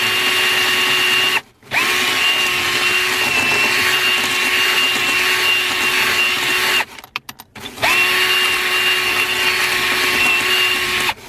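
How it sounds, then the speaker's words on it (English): Drill brush spinning inside a car cup holder, a loud steady whine that cuts out briefly twice and then resumes at the same even pitch. "I'm going to take my regular just drill brush right here, and I'm just going to insert it inside and just wipe it around a little bit."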